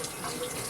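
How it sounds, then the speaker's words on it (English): Hands being washed under a running kitchen tap, a steady close rush of water hissing into the sink without pause and no voices. "let me wash my hands so y'all are going to hear this washing"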